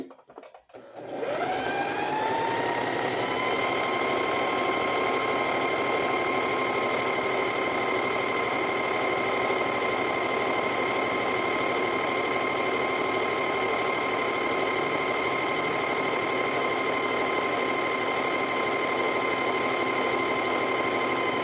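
A sewing machine whirs into a steady, fast stitching run after a brief start, its motor hum constant and close for the whole stretch, with no voices.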